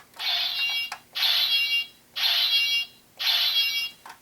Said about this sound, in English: The first sound is slashing sounds.